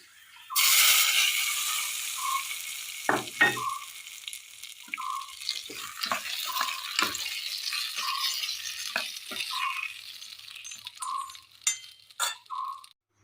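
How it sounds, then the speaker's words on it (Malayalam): Mustard seed tempering hits a Kerala-style curry with a sudden loud hiss that slowly fades, followed by scattered spoon taps, scrapes and brief clatters against the pot. "കടുക് താളിച്ചത് ചേർത്ത് കൊടുക്കാം."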